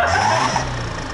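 A car engine revs hard and steady, with a broad roar that holds loud through the whole moment, no voices over it.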